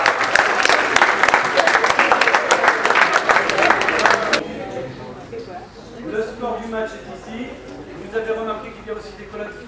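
An audience at an improv theatre match claps loudly for about four seconds, then the applause cuts off and someone talks alone over quiet room noise.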